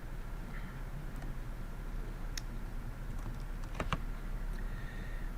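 Scattered keystrokes on a computer keyboard while Python code is entered, a few faint, sharp clicks and a brief cluster of taps over a steady low background hum.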